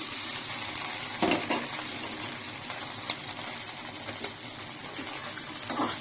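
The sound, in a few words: spring onions and chopped onion frying in oil in a pan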